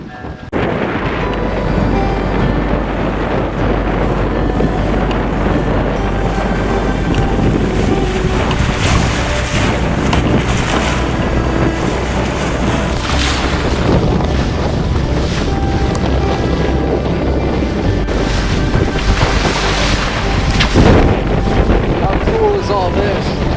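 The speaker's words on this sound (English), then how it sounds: "We still had a good bit of sailing to do to get to the anchorage." A sailboat under sail in strong wind, a continuous loud rush of wind buffeting the microphone over water noise and waves, with a low rumble underneath and no clear talk.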